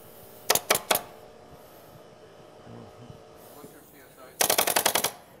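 A pneumatic stapler fires in rapid bursts while dense-pack cellulose insulation is installed: three sharp snaps near the start, a quieter stretch, then a fast loud volley of about seven shots near the end.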